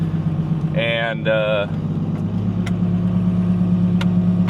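A manual Cummins truck with a dual disc clutch cruises along in second gear, its low engine drone steady throughout while someone speaks briefly near the start.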